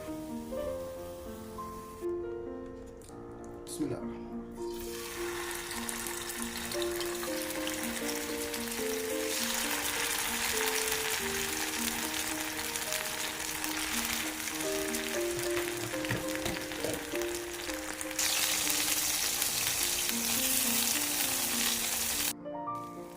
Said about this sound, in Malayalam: ഈ എണ്ണയിൽ തന്നെ നമുക്ക് ഫിഷ് ഫ്രൈ ചെയ്തെടുക്കാം